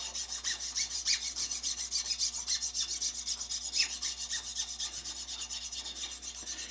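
Hand file rasping steadily over a die-cast part from an antique Yankee No. 1530A drill, a fairly quiet, rhythmic back-and-forth scraping with no talk.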